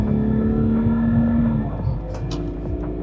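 A BMW E60 car engine revs, a steady loud droning tone holding then dropping off into a rougher lower idle.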